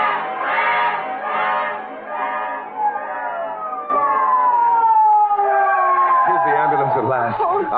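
A wailing ambulance siren effect rises and falls in a radio drama, first in repeated swells, then a long gliding tone that grows louder and nearer as voices speak over it.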